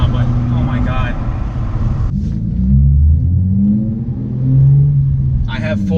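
A Genesis Coupe 3.8 R-Spec V6 with a straight-pipe exhaust revs loudly from inside the cabin, a deep rumbling drone that swells and falls twice over a few seconds, with wind noise at first and someone talking over it.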